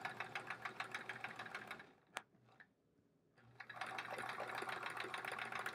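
A sewing machine running steadily for free motion quilting on a quilt-as-you-go sampler block, close and continuous, stopping briefly in the middle with a single sharp click before the stitching resumes.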